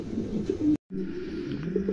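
A pair of small pigeons coos in low, rolling murmurs close by, with steady overlapping calls broken by one brief silent gap.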